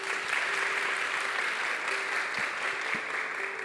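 A seated audience at a corporate event on racial equity gives a steady, moderately distant round of applause, even and continuous throughout.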